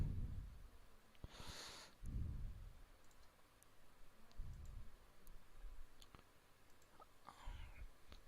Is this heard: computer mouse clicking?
yes